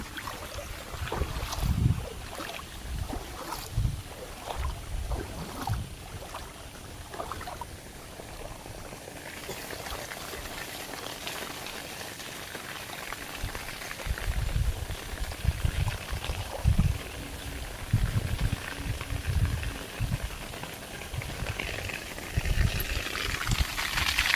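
Water flowing away in a continuous rushing wash, with some bumps and splashes in the first seconds and a fuller surge later on, outdoors and without talk.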